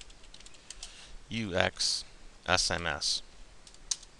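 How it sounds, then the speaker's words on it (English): Keystrokes on a computer keyboard as a command is typed into an administrative Windows command prompt, quiet light clicks scattered through the clip with someone speaking briefly over them. "you just type net start"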